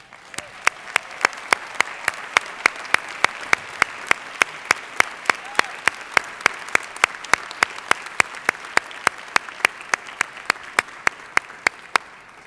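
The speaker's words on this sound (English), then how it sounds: "please stand and accept our heartfelt congratulations and applause." Graduates at a university fall commencement ceremony receive audience applause, steady broadband crowd clapping lasting the whole stretch, with a regular sharp ticking pulse running through it.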